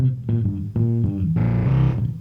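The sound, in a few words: warbly wavetable synth bass without sub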